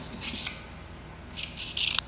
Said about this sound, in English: Folding my page the long way, making this piece of paper as long as my journal